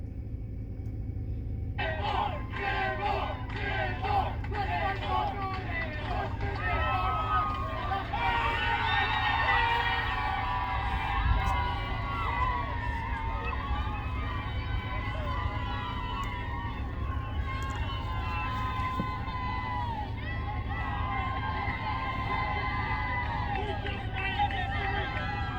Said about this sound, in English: That's the sound of the workers when they found out that the vote went